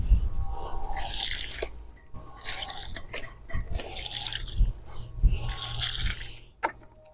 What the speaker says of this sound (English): my next step is just going to be putting a little bit of water